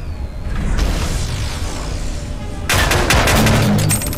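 Rapid bursts of gunfire from a weapon in a VR shooter game, a dense crackling volley that breaks out loudly in the second half over a steady background rumble of the room.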